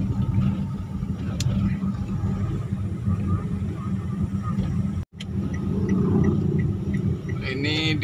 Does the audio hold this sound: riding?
yes